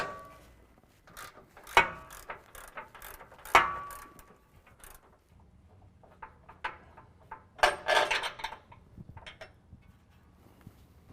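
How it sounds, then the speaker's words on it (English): A ratchet with a 21mm socket works a bumper bolt on a truck's front prerunner bumper, with bursts of quick metallic clicks, some sharp clanks and softer fumbling in a quiet space. "for the driver's side bolt, I'm going to use a 21mm socket"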